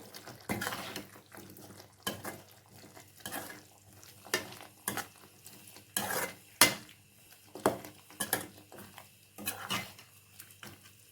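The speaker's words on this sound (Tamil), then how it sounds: "ஆனியனை அரைச்சாச்சு சிக்கனை சேர்த்துக்கலாம் நல்லா கலந்து விட்டுக்குங்க" Chicken is stirred with ground onion in a pan, giving repeated scraping clinks of a spoon against metal in an irregular rhythm with a faint sizzle underneath.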